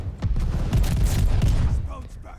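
The Gracey Auto shotgun fires in rapid succession in a Call of Duty battle royale match, a quick run of booming blasts over about two seconds, loud and close, then fading.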